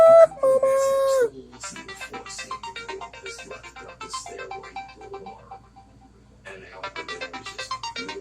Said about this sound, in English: Bella, you want to try to turn off the phone?